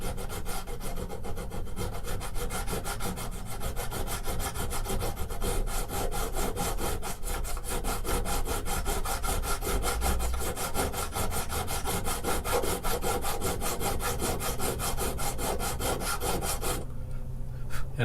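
Steady back-and-forth rasping of a file across the fret ends of an acoustic guitar, close and loud with a rapid even rhythm, stopping abruptly just before the end.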